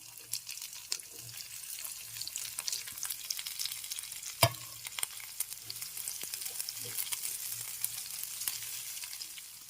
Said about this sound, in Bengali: সবজিগুলো ভেজে নিয়েছি